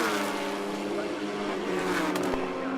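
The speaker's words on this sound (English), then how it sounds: "listen to those fantastic engine notes going past our pit camera" Loud saloon and sports racing car engines roar past a pit camera at Knockhill circuit, Scotland, in a continuous blare, pitches sliding as cars go by, with a brief sharp crackle near the end.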